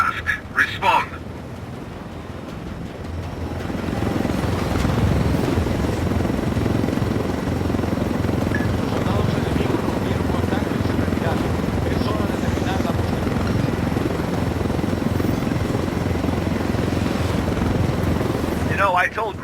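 A helicopter in the Ghost Recon: Wildlands video game drones with a loud, steady rotor thrum that rises after a few seconds and holds close and continuous, with brief voices at the start and end.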